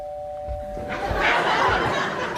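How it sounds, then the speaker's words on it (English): A hand bell rung as a stand-in doorbell on an improv comedy stage gives a short sustained tone, then studio audience laughter swells up over it. "I'll do a sort of doorbell noise, using a bell, in fact"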